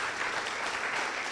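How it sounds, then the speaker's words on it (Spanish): Steady applause from a church congregation fills the space, a dense, even wash of clapping with no pauses. "Dale un fuerte aplauso a Dios."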